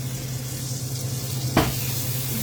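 Pork ribs searing in a pan on a stove top, a steady close sizzle and hiss with a low hum underneath, broken by one brief scrape as the meat is shifted.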